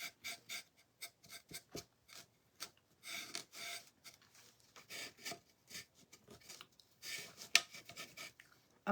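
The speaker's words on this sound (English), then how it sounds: "I'm rubbing across this thing and it's wood." A hand rubs back and forth across a wooden piece in a workshop, giving a series of close, soft rasping strokes in an uneven rhythm with short pauses between them.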